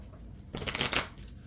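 Marvel Champions playing cards are riffle-shuffled in one quick, crisp burst of rapid flapping clicks lasting about half a second, close by against a quiet background.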